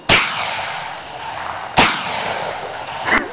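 Two loud gunshots crack outdoors after a spoken countdown, each with a sharp onset and a long echoing tail, followed by a third fainter report near the end.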